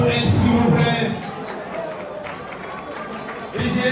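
An awards-show audience applauds a performer with a sustained wash of clapping and crowd noise, while a voice talks over it at the start and end.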